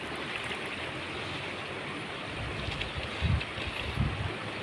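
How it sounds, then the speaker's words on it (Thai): Steady rush of flowing stream water with a dog playing in it, a broad continuous wash with a couple of louder splashing bursts near the end, no talk. "ดูครับพาน้องโพมาเล่นน้ำไหลเลยนะครับ"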